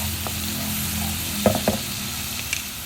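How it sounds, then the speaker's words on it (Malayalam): Ginger garlic paste sizzles steadily in a hot pan while browning for a Kerala-style mutton curry, with a few brief clinks of a spoon stirring against the pan midway and near the end. "ഇപ്പോൾ ആ ഇഞ്ചി വെളുത്തുള്ളി പേസ്റ്റൊക്കെ നന്നായിട്ട് മൂത്തിട്ടുണ്ട്."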